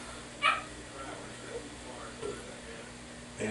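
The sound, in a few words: dogs barking and whimpering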